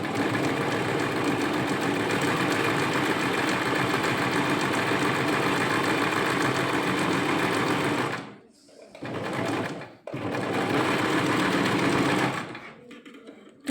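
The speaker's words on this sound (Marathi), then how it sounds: "आता बघा आपण दुसरी शिलाई करूया." A Singer sewing machine stitches steadily with a fast, even mechanical whir and rattle that runs continuously, then stops and starts in short bursts near the end.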